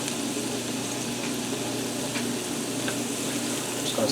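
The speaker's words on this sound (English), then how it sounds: "we're going to allow this corn to fry in here for a minute to thaw out and start to cook" Corn fries in a skillet to thaw and cook with a soft, steady sizzle, close and even, with no talking.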